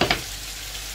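Garlic hits a frying pan with a quick pair of crackling bursts, then settles into a steady, close sizzle.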